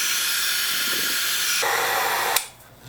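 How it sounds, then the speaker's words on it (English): A heat gun blows on a frosted sensor with a steady, loud airy hiss that grows harsher partway through, then cuts off abruptly near the end, leaving a faint low hum. "we'll restore the sensor by thawing it out with the heat gun"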